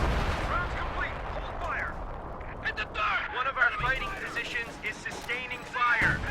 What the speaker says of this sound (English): I think this is a second, maybe third barrage.